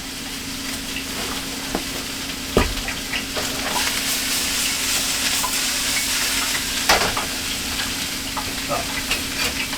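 Grease heating in a pan, a constant close sizzle with occasional sharp pops and scraping clicks from stirring, loud and steady with no talk.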